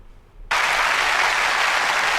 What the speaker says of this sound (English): Cue warm applause.